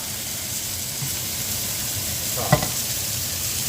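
Chicken pieces browning in a hot pan for garlic butter chicken, with a steady broadband sizzle and hiss that runs unbroken throughout and one brief clatter near the end.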